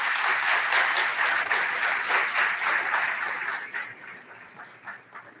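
Applause from a college fall convocation audience, many hands clapping in a dense, fairly near roar that gradually thins and fades toward scattered claps at the end.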